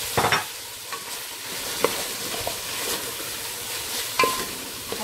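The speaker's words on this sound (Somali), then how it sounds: "hadda si fiican ugu qasayaa waan ku shiilayaa xoogaa" Potatoes fry in a pan over a constant sizzling hiss while a utensil stirs them, with a few distinct scrapes and clinks spread irregularly across the stretch.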